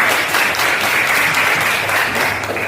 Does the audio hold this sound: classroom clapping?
yes